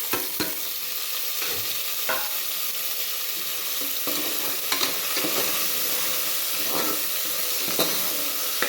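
Onion, ginger garlic paste, coriander and green chili sauté in a pan, giving a steady soft sizzling hiss with occasional stirring scrapes, heard alone without talk.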